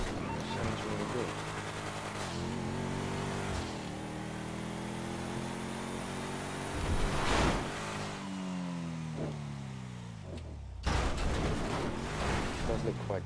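A Coil Brawler off-road car in GTA V revs and accelerates, its engine note climbing and dropping through gear changes, with a few loud bursts and a faint voice talking underneath.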